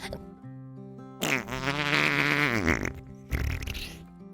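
A voice imitates a long, wet, buzzing fart with a wavering pitch that slides downward, loud and close, followed by a second short burst after a brief pause.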